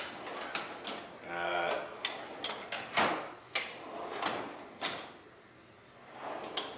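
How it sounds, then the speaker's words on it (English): Heavily loaded drawers of a Craftsman Edge 13-drawer tool box slide open and shut, producing a string of sharp clacks and knocks with brief rolling sounds between them, while someone talks quietly in the background. "Drawers, even with a ton of weight in them, roll very smoothly."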